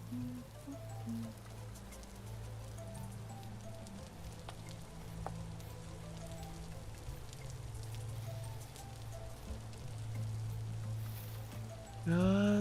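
Rain falling in the survival game Vintage Story, a soft steady patter over a low drone, with a brief brighter game sound at the very end.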